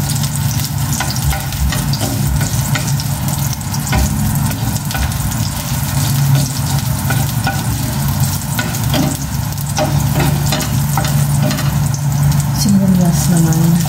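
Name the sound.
sizzling of frying as oyster sauce is added to tilapia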